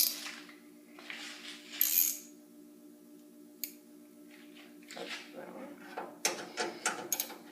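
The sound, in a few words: 3/8 ratchet tightening grille bolts on a 1966 Mustang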